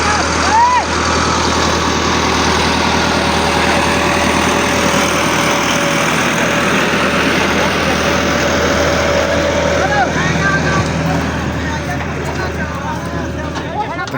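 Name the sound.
tractor engine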